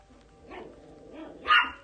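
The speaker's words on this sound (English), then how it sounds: "They're just barking at each other" Dogs trade a few short barks, soft at first and then one sharper, louder yelp near the end, heard fairly close with no talk.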